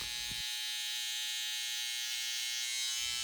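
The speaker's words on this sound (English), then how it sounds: "we're gonna come back in with the clipper and then erase it with it being closed" Electric hair clipper buzzing steadily and close, used closed to blend a mid drop fade, a continuous high whine with brief low handling noise at start and end and no talking.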